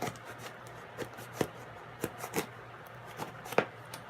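Scissors cut at a shipping package in a series of quiet, irregular snips and scrapes, scattered unevenly, close by, with no talking.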